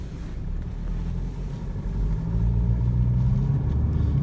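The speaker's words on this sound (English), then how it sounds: "Put it in drive and let's get onto the road." A 2014 BMW 328d xDrive with a 2-liter turbocharged diesel pulling away from rest, a steady low engine rumble that grows louder and fuller as it accelerates, heard from inside the car with no talking.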